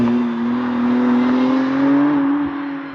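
A 2024 McLaren Artura supercar accelerates hard, heard from outside as a steady, rising engine drone with smooth harmonics that climb over three seconds, fairly loud and continuous.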